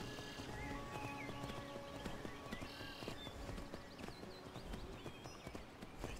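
A horse gallops in Skyrim with steady hoofbeat clip-clops over a dense, loud bed of game ambience and music, and no one speaks.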